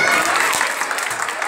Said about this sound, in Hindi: एक बार जरा तालियां हो ना जोश वाली